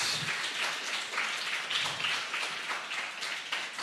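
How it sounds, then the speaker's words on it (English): Audience applause for panelists at a development partnership and human security awards event, a dense, steady wash of many hands clapping that fills the room evenly for several seconds with no speech over it. "round of applause for our distinguished panelists"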